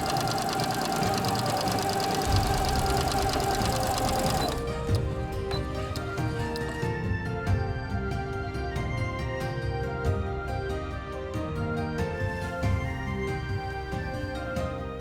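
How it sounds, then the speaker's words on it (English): A sewing machine stitches the waistband and outer leg seams of wide-leg pants, running in a loud, steady, rhythmic whir with close mechanical chatter throughout, no talking. "Got the waist sewn together and the outside of each leg."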